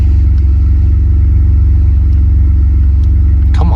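A daily-driver work truck with over 211,000 miles runs with a loud, steady low engine rumble that barely changes, ending with a brief rattle or clunk and no talking over it.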